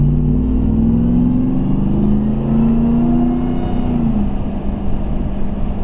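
A 2021 Ram 1500 TRX pickup engine revs at quarter throttle, a loud, steady, close-up drone whose pitch climbs and eases back down across several seconds, with no talking.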